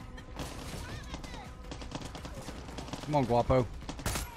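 Gunfire in the video game Far Cry 6, scattered shots and short bursts crackling amid game noise, with a few louder sharp reports near the end while a player talks over it.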